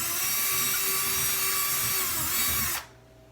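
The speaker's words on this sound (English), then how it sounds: "I'm going to drill it out a little bit more." A power drill running steadily at a high whine while drilling out a hole for a shelf anchor, then stopping abruptly near the end.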